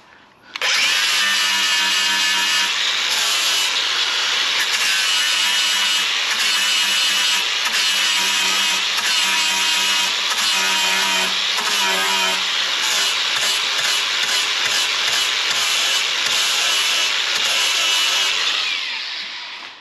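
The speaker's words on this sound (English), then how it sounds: "I could keep grinding that until it's not even there, but I'm just grinding away this material." A power grinder works down welds on a Ford Transit van's steel panel, producing a loud, close, continuous high-pitched whine with brief pulsing dips as it bears on the metal, running for most of twenty seconds with no talking.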